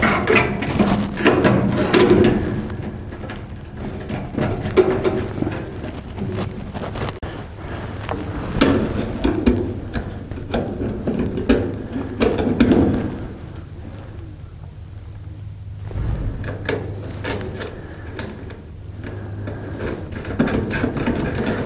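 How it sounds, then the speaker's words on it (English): Quarter-twenty bolts with plastic-insert locking nuts being snugged down while assembling a chicken nest box, giving a steady close ratcheting and metallic turning noise with light wind in the background. "Now you want to tighten these down,"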